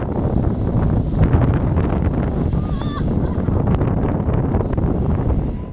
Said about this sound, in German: das ist Riesensturm und die Wellen sind ganz groß